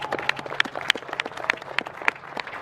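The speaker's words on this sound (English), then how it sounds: "Everybody, give them a round of applause." Scattered clapping from a small group at a soccer coaching convention session, sparse uneven claps with light voices and movement around them, brief and moderately close.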